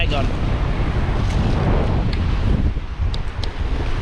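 Strong wind on the banks of the River Humber during sea fishing buffets the microphone with a loud, continuous roaring rumble, gusting unevenly and drowning out other sound.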